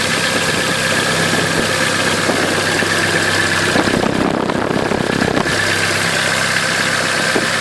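A Ford Focus Mk1 1.4 engine idles steadily after an oil and filter change, with a low, even rumble and a faint high whine, with a brief rougher, louder stretch midway.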